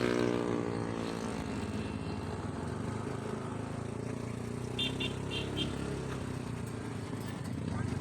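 Road traffic passes around a rider on an e-bike in the Philippines, a steady mix of car and motorcycle engines droning close by, with a brief higher whine partway through.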